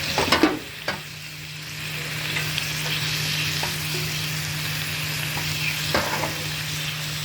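Baby beans, cabbage and bean sprouts for vegetable lumpia fry in a pan with a steady sizzling hiss, a few sharp clatters of stirring at the start and scattered clinks later, close and without talk.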